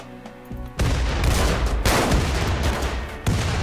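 Gunfire in the video game RimWorld: dense, loud bursts of rapid shots and booms, with a fresh volley cutting in near the end and no voices.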